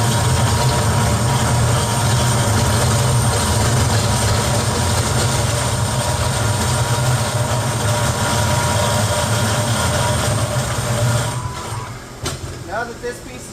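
A machine cuts a pipe clamped in a vise on a threaded-line shop floor, a loud steady grinding drone with low rumble that holds for most of the clip, then drops away near the end.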